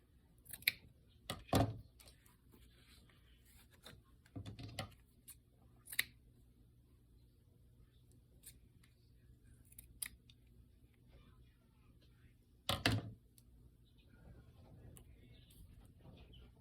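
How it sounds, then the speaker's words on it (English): Scissors snip black pieces of material in a few short, quiet bursts of crisp cuts separated by long pauses. "I wonder if I used up all the black. If I should cut some more. I did. So we'll just cut a few more pieces."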